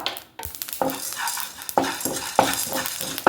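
Spices dry-roasting in a pan on a gas stove, stirred repeatedly: close crackling sizzle with rhythmic scraping strokes of the spoon about every half second, no voices.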